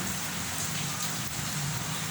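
Steady rain pours down outdoors as a dense, even hiss of drops on surfaces, continuous and fairly loud with no voices over it.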